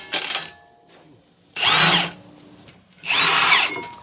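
A power tool, likely an impact gun, spins off rusted bolts holding a brake housing bracket on a BMW E36 front brake; three loud whirring bursts with short pauses between, no talk.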